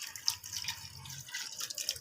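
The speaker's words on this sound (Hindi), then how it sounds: "तो जी अब इसमें मैं डालती हूँ पानी।" Water is poured into a pressure cooker holding mutton, a soft, uneven splashing trickle close by, fairly faint, with no talking.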